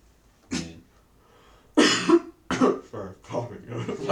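Several harsh coughs from one person nearby, a single cough followed by a cluster of rougher bursts.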